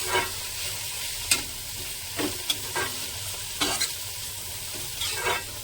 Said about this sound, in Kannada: ಇದನ್ನು ಸ್ವಲ್ಪ ಚೆನ್ನಾಗಿ ಫ್ರೈ ಮಾಡ್ಕೋಬೇಕು.